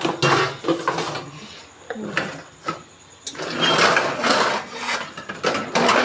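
Metal cooking pot being handled in a home kitchen while rice is stored: a run of clattering knocks, scrapes and lid clinks, irregular and close, with a quieter stretch in the middle and no talk.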